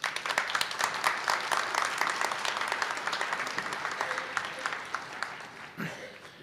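Members at a housing association's annual meeting applaud the board with a moderately loud burst of many hands clapping, which thins out gradually and ends with a brief low thump.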